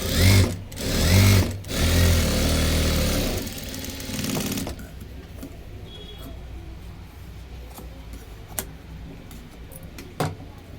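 Electric sewing machine stitching a blouse, running in a loud continuous whirring burst for several seconds and then stopping, followed by quieter handling noises and a couple of faint clicks.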